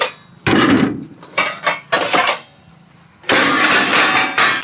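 Pots, pans and dishes, including an idli steamer pot, are washed by hand at a home in bursts of scraping and clanking metal. The noise is loud and close, with water splashing and short quiet gaps between the bursts.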